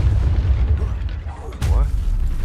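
A Confringo fire-blast spell from Hogwarts Legacy bursts out as a single loud, booming explosion partway through, with low rumbling combat noise before and after it.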